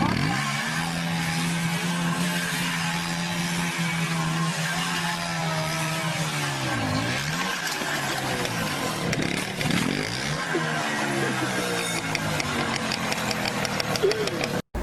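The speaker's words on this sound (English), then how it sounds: "Did he mean to spin the bike in circles?" A motorcycle engine revving as the bike spins in circles, a loud close engine drone with rising and falling pitch sweeps, steady throughout and cutting off abruptly at the end.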